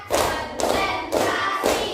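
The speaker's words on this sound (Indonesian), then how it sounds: "tepuk empat," Pupils in a classroom clap together in a steady counted pattern, four loud, evenly spaced group claps about half a second apart, each trailing off briefly.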